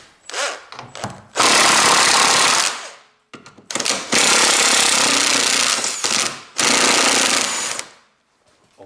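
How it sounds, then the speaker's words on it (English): An electric impact driver removes bolts from a car steering shaft, firing in three loud, sustained hammering bursts of a few seconds each with short pauses between them, close by and with no talk. "I can use my electric impact driver and take these bolts away."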